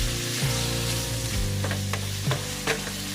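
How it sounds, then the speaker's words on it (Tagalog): Pork sautéing in a pan with onion and garlic, a loud steady sizzle broken by several scraping stirs of the spatula. "igisa lang muna natin para ma-mix yung sibuyas at saka bawang dito."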